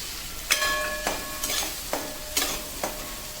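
Chopped capsicum, beans and carrot frying in melted butter in a pan, a low constant sizzle broken by five or so metallic scrapes and taps of a spoon stirring, close-up and fairly soft.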